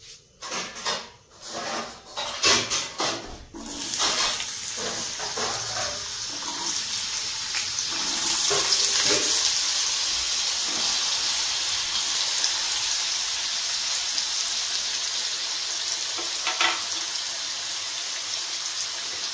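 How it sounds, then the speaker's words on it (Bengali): Potatoes hit hot oil for a ghugni recipe, giving a few loud clattering drops and splashes up front that settle into a steady, close sizzle and hiss running on for many seconds. "আমি এখন এর মধ্যে আলুগুলো দিয়ে ভেজে নেব"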